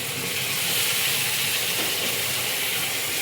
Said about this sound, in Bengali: দিয়ে এই মশলাটা কিছুক্ষণ কষিয়ে নেব